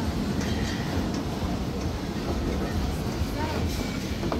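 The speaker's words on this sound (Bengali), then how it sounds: "ট্রেন থেমে গেছে। এখন ওরা স্টেশনে পৌঁছে গেছে।" A small park train comes to a stop at its station, giving a steady, close rumble of wheels and carriage noise with faint voices in the background.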